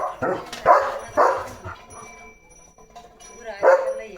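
Leo the dog barks at passing cattle, three loud, close barks spaced about half a second apart, a pause, then one more bark near the end.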